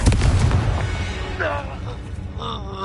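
Confringo fire spell in Hogwarts Legacy bursts with a loud, rumbling blast at the start, its roar trailing off over a couple of seconds beneath game sounds and a voice.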